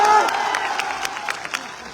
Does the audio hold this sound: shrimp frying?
no